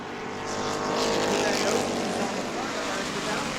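Stock cars race at New Smyrna Speedway, their engines blending into a loud, continuous roar as the pack sweeps by, with a slight swell of a passing car partway through.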